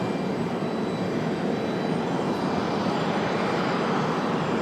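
Delta 1407 airliner departing Raleigh-Durham airport for Detroit, a steady, broad jet engine roar holding at constant loudness throughout with no speech.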